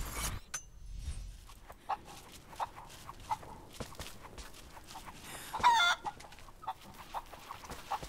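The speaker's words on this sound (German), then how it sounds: "fangen Sie Hühner und sperren Sie ins Hühnergehege" Chickens clucking in the video game Rise of the Tomb Raider, a run of short repeated clucks and squawks with a louder burst midway, set against a faint ambient background.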